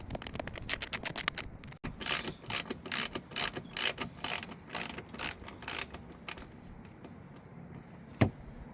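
A ratchet tightens a bolt on the B-pillar of a 2019 Tesla Model 3, with rapid close clicking bursts in uneven strokes, then a pause and one last click.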